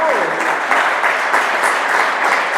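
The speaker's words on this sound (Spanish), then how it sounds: "Denle un aplauso al" A church congregation claps in a dense, steady round of applause that carries on throughout, with no voices standing out above it.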